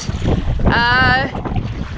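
Wind buffets the microphone in a constant rough roar, with a brief whistling tone in the middle.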